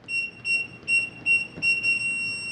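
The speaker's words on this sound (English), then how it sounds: "It's going to beep long at me like it just did" A series of high electronic beeps from a Kwikset 914 keypad door lock being programmed, about five short tones in a rhythmic pattern followed by one longer tone, close and clear with no talking.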